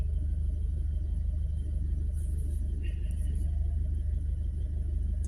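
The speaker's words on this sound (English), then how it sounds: "Cars." Traffic on a road in the Philippines, a steady low rumble of passing cars that continues throughout without any distinct single pass-by.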